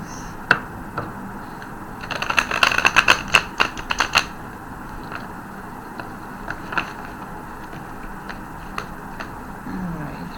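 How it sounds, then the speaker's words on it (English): A deck of tarot cards is shuffled close up in a quick flurry of crisp riffles and clicks, then thins to scattered taps over quiet room tone. "Let me just quickly shuffle these."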